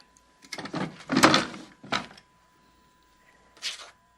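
A wooden desk drawer slides open in a quiet room, a few scraping, knocking bursts followed by a brief rattle, close and clear with no talk.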